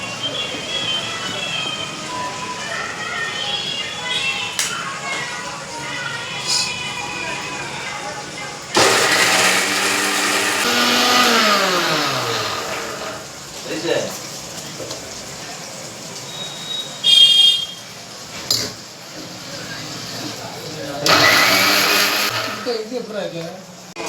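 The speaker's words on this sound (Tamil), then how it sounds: "தேங்காய் அரைச்சிடுவோம்." A mixer grinder grinds coconut for a fish curry masala in a home kitchen, a loud broadband whir starting abruptly partway through and returning in short bursts, with talk before it.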